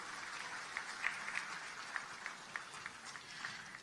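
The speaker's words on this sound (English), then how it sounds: "Can we give them another round of applause?" Audience at an awards gala gives a soft round of applause, faint and distant-sounding, a steady patter of clapping with a few sharper claps standing out.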